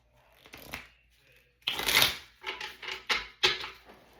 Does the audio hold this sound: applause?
no